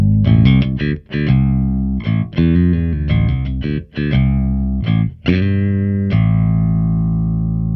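A bass guitar is picked with a thick stone pick in a quick run of distinct, punchy notes with short gaps, ending on a long sustained note that rings out, loud and close with no talking.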